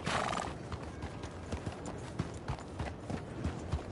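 Horse hooves clip-clopping in an uneven rhythm in a video game, with a brief whinny-like burst at the start.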